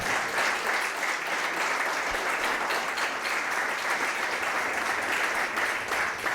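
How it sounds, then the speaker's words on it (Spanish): A church congregation clapping together during a Spanish-language service, a loud, close, continuous roar of palms with no gaps. "damos palmas al nombre del Señor"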